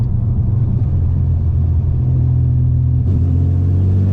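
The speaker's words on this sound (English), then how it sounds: "Like I'll go into a third gear pull right here." A tuned car engine pulls hard in third gear, its loud, close drone holding steady and then rising in a brief surge near the end, with no talk over it.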